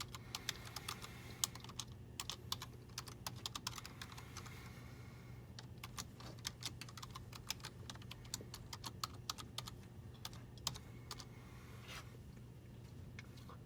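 Portal ID and password being typed on a computer keyboard, a steady run of quick, crisp key clicks in an irregular rhythm over a low, constant hum of computer equipment in a quiet room, with no voices.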